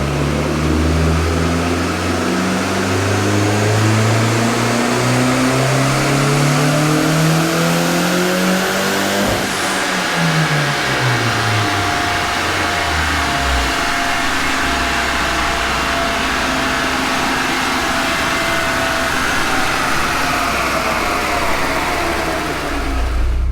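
Turbocharged 1.8T engine in an Mk2 on a dyno revs hard and loud, pitch climbing steadily through a long pull, cutting off sharply, then winding back down to a lower steady running note.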